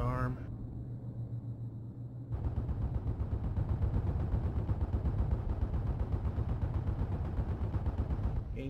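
Anti-aircraft flak fire in a World War II flight combat game, a dense rapid rattle of bursts over a droning engine, continuous and loud under occasional radio chatter.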